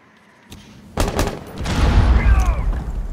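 Gunfire in the video game Rainbow Six Siege sounds as a few sharp shots followed by a louder, rumbling burst of fire, fairly close and loud.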